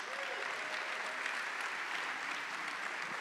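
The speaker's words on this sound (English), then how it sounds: "Ladies and gentlemen, big round of applause for Lee Roush." Steady, dense audience applause fills a live local dance-competition show, continuing evenly from start to finish with no voices over it.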